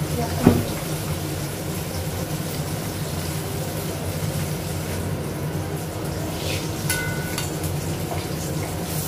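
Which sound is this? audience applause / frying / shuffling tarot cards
frying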